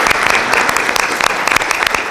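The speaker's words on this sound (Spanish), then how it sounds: "le pido para ella un aplauso" An audience applauds at a medical school event, a brief burst of dense, loud clapping from many hands that holds steady for about two seconds.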